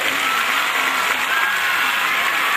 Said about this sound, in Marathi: कृपया टाळ्या वाजवून जोरदार स्वागत.